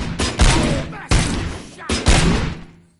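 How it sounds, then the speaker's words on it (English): Three loud, sharp movie gunshot bursts ring out in quick succession, each trailing off into echoing rumble, close and heavy. "Am I hearing gunshots?"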